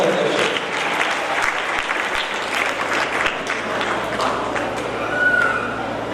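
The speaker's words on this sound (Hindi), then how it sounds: "जोरदार तालियों के साथ आमंत्रित करते हैं आशीष मेहता जी" Steady applause from a school audience welcoming the president of the Young Farmers Association onto the stage, a dense continuous clatter of many hands, fairly loud and sustained throughout with a faint crowd murmur beneath.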